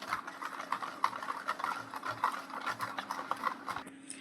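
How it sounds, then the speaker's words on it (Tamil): A whisk beats chocolate cake batter in a bowl, a rapid steady rhythmic clatter and tapping that keeps going at close range, moderately quiet, with no talking. "நல்லா விஸ்க் வச்சு நல்லா மிக்ஸ் பண்ணிவிடுங்க."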